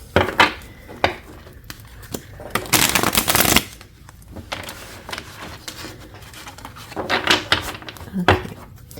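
Tarot cards are shuffled close by, dry riffling and slapping bursts that come in uneven clusters with short pauses between them, with no talk during the shuffling.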